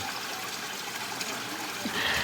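Fresh spring water wells up from underground, a steady close rush and trickle that holds an even level throughout, no voices over it.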